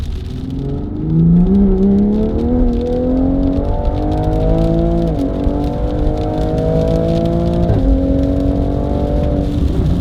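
A Toyota Supra engine running ethanol revs hard on a dyno, a loud, continuous roar whose pitch climbs steadily, with brief dips around the middle and near the end before it pulls up again.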